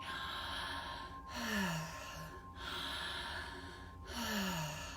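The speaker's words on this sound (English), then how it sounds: "deep belly breathing, like deep breathing in and out of the mouth" Deep, connected breaths through the mouth, a long inhale flowing straight into a long exhale, repeating in a slow steady rhythm, close and soft.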